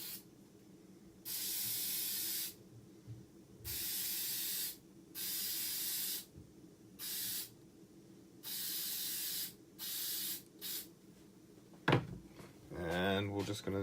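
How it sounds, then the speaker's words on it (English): Spray adhesive hisses onto O scale model tree branches in about seven separate bursts, each lasting a second or more with short gaps between. The spraying is close and loud, and a brief clatter follows at the end. "So let's go ahead and give it a spray."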